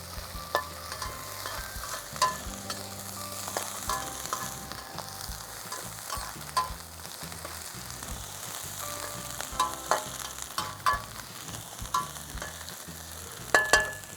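Fish and rice stir-fried over low heat in a pan for catfish fried rice: a soft, continuous sizzle with repeated scraping and tossing strokes of the utensil, close and fairly quiet with no talk.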